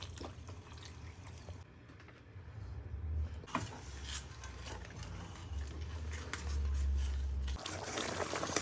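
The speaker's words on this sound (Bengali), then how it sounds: "আমি এই মশলা কষানোর ভিতর নারকেলের দুধ দিয়ে দিচ্ছি।" Coconut milk is poured into spice paste frying in a pan for a lobster malai curry, giving a soft liquid trickle and sizzle over a low kitchen background.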